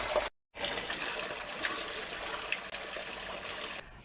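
Steady, close trickling water from a cold spring in Halkidiki, Greece, with a bright splashing texture, running continuously after a brief silent gap near the start.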